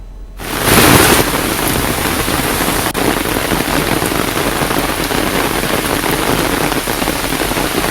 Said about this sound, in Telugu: మొత్తానికి హైదరాబాద్ లో ఇప్పుడే సాయంత్రం వేళ వర్షం ప్రారంభమైంది